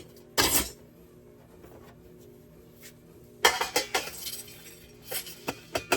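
Metal trays clinking against a half gallon glass jar, a sharp clatter followed after a pause by a cluster of bright rattling knocks and a few scattered clinks, close and fairly loud.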